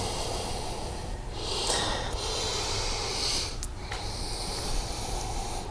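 Breathing during a yoga stretch, a few audible breaths with sharp nasal snorts and hissing exhales over a steady background hum.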